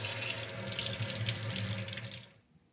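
Tap water runs steadily as a Dyson V6, V7 or DC59 cordless vacuum filter is rinsed under it, a loud close splashing wash that stops near the end.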